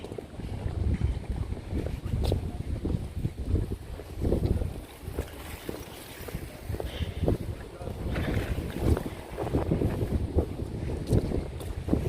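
Strong wind buffets the microphone outdoors, with steady low rumbling gusts filling the whole stretch, some boat or water-like roar mixed in, and a person's voice faintly under the noise.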